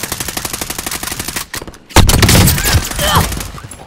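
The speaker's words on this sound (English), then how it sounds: "Under fire here." Rapid automatic gunfire in a shooter video game, a loud, close, fast rhythmic stream of shots that breaks briefly, then returns as heavier blasts, with a player's voice speaking over it.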